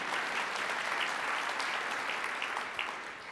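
An audience at a speech applauds itself in a dense, steady wash of clapping that fills the room and tapers slightly at the end, with no talking over it.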